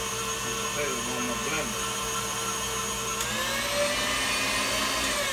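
A blender mixing sweet potatoes whirs steadily up close, a constant high motor drone that shifts pitch slightly as it churns.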